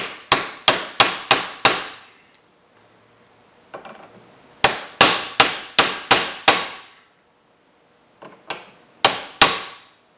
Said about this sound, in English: we're just going to hammer that down so we can get the clip in there